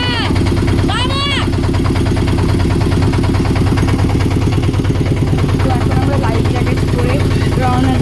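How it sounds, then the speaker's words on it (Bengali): A bhotbhoti motorboat engine chugs loudly at a river ghat, a rapid, steady low putter running throughout, with voices and brief whistling sounds on top. "আমার ভয়েসটা শোনা যাবে না কারণ আওয়াজ হচ্ছে এখানে ভটভটি"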